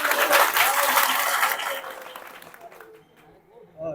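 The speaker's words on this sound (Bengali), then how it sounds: "এবার হাততালি দেন" A burst of applause from a gathered village crowd at a family dispute settlement, loud clapping for about two seconds that fades out, with voices speaking over it.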